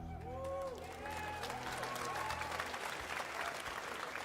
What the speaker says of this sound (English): Why are people clapping?